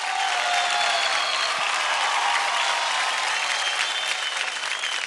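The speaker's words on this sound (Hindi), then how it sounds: "जोरदार तालियां हो जाए अबेक और राजा स्मिता के लिए।" A studio audience at a televised dance competition bursts into loud, sustained applause for a dancing pair, a dense wall of clapping with some crowd noise that holds steady throughout.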